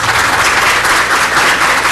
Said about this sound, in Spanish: Les pido que le demos un aplauso